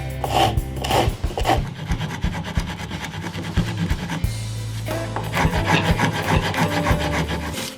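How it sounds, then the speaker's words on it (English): A Triton belt sander shaping a wooden guitar body gives a continuous, loud, gritty rasp, with the abrasive rubbing surging and easing as the wood is pressed and shifted against the belt, heard alone. "I honed the shape on the Triton belt sander"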